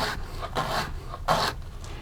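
A knife slices vegetables into thin slices on a cutting board for coleslaw, making a rhythmic series of four or five raspy strokes close up, with no talking.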